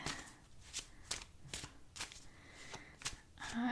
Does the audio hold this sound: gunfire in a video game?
no